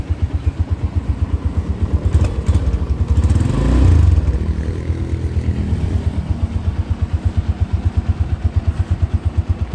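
A 2012 Honda Tiger Revo 200 cc motorcycle engine runs at a steady, rapid, throbbing idle, briefly swelling louder around the middle before settling back to its even thumping beat.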